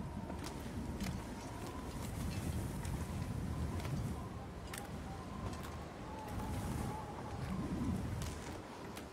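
Steady low roaring wind of a blizzard in the Interloper survival game, continuous and full, with faint creaks and ticks over the rumble.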